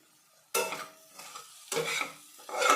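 Ingredients being mixed with chili powder and salt for an egg and chapati dish: a few bursts of close stirring and scraping against a bowl, separated by short quieter gaps, with no talking.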